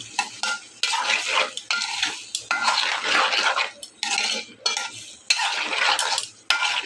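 Fish head curry being sautéed and stirred in a pan, with pumpkin on hand; bursts of scraping, stirring and sizzling come in repeated strokes, close and fairly loud, with no talking.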